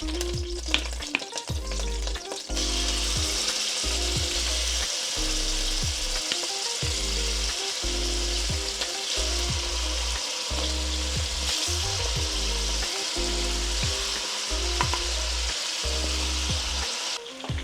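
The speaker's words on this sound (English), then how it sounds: "Now we're gonna braise our chicken." Loud continuous sizzling of chicken frying in hot oil, with occasional scraping and stirring noises from a utensil in the pot.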